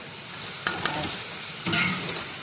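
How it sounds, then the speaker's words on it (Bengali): Potatoes frying in a pan while being stirred, giving a steady close sizzle with a few sharper scraping strokes, no talking. "এপাশে হচ্ছে আলু ভাজা"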